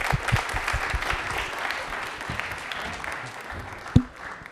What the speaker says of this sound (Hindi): ताली एक बार जोरदार हो जाए जयती के लिए